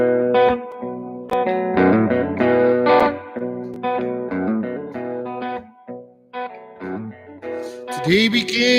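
Electric guitar played through an amp with analog distortion, chords and notes ringing with heavy grit, chorus-like shimmer and reverb, loud and close, ending in a bent, wavering phrase, with no voices.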